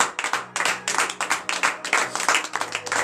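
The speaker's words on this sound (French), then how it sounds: "Donnez de vive acclamation à l'Éternel." Congregation clapping hands together during a Wednesday morning prayer service in Comè, Benin, a dense run of sharp overlapping claps from a modest group, fairly close, with a low hum underneath.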